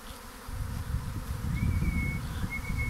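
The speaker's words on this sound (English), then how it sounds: "I'm standing right in the middle of this swarm and skies are full of bees" A bee swarm landing in a hive box, a continuous dense buzzing of many bees close around the listener, rising after a quieter first half-second, with faint whistle-like tones drifting above.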